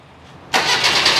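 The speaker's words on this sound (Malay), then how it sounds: "tetap tak boleh hidupkan enjin" A Wira car engine cranks but fails to start, with a sudden loud burst of mechanical noise and a steady churning roar that continues without settling into a smooth idle.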